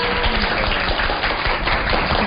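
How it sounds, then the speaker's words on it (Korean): A studio audience applauds steadily for a teacher on a televised TOEIC lesson show, a dense, continuous wash of clapping that holds at an even, fairly loud level throughout. "선생님께 다시 한번 큰 박수 부탁드리겠습니다"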